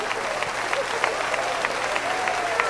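Large congregation at a Brazilian church congress clapping steadily in a rhythmic, sustained wash, with voices murmuring beneath the applause.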